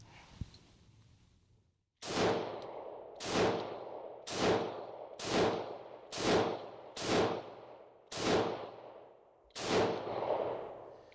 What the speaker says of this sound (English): we're going to start off with the 30 grain Hornady VMAX in double action